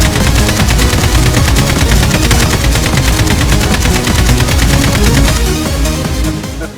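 Audi car with a 400 hp engine crackling and popping from the exhaust in rapid, loud bursts like gunfire, continuous for several seconds and fading at the end, with no talk.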